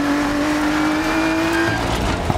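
A BMW M2 rally car in Dirt Rally 2, its engine a loud, steady high drone held close, shifting tone near the end with a brief knock.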